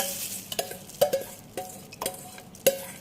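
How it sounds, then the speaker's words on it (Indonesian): A salt solution for salted eggs is stirred by hand, giving a series of light scraping knocks and clinks against the container, irregular and fairly quiet, with no voices. "Kita aduk sampai semua larutan terambil."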